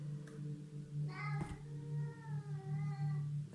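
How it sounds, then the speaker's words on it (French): Indoors a cat gives drawn-out, wavering meows to be let outside, close and fairly loud over a steady low background hum, with a short knock partway through. "mon chat me parle, il veut sortir"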